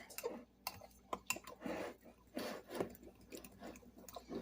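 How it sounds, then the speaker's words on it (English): A spoon works through a milky cake glaze mixture in a bowl, making quiet, irregular scrapes and soft clicks against the sides in short bursts, close and faint, with no talking. "let's give that a stir"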